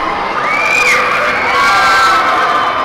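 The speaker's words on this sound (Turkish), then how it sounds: "Herkes çığlık atıyor, farkında mısınız?" A crowd of riders screams and whoops together on a dinosaur-themed amusement park ride at Ankapark, loud rising cheers and shrieks that swell and hold throughout, with no clear speech.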